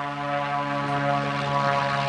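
Inside a skydiving aircraft climbing toward 3000 metres at a parachuting site in Wano, New Caledonia, a loud, steady propeller-engine drone fills the cabin with no voices.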